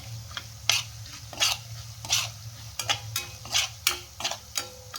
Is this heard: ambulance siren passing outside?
no